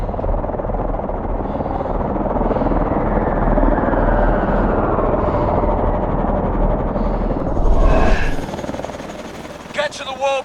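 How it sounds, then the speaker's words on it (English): A warbird aircraft in the video game Call of Duty: Advanced Warfare roars steadily like a helicopter for about eight seconds. The roar then cuts off into sharper bursts and clicks, with voices briefly heard. "Get to the warbird, Mitchell."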